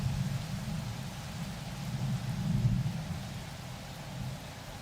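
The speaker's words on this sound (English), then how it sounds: "It's just like this persistent noise, like the thunderous sound of water" In a video game, steady rain hisses while a low thunder rumble rolls underneath, swelling in the middle and easing off again.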